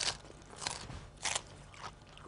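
Close-up crunching of crisp Cos lettuce, with several sharp, crackly bites spaced unevenly over a couple of seconds and no talking.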